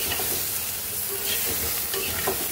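Brinjal stirred and tossed with spices in an oil-filled pan for a light hilsa fish curry with potatoes, a steady sizzle broken by scraping spoon strokes, close and fairly loud, with no voices.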